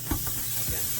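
Meat patties for Salisbury steak hit a hot skillet and sizzle in a steady hiss with a few soft pops, close up, with no talking.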